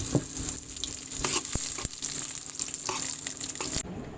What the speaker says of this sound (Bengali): আমি পেঁয়াজটা প্রথমে ভেজে নেব, বেরেস্তাটা করে নেব।